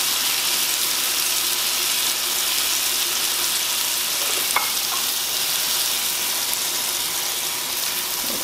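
Pork chops browning in a frying pan for a pork chop casserole: a loud, steady, hissing sizzle that carries on unbroken, with a faint scrape or clink partway through and no voices.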